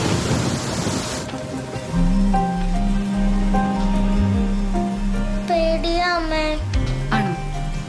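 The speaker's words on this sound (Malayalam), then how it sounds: "മഴ കനത്തിരിക്കുവാണല്ലേ?" Heavy rain gives a dense hiss that is strongest at first, then carries on more faintly beneath sustained tonal music and pitched sounds for the rest of the stretch.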